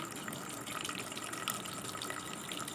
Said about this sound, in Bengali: আমি এখন মটরটা সিদ্ধ করতে বসিয়ে দিচ্ছি দিয়ে দিলাম মটরগুলো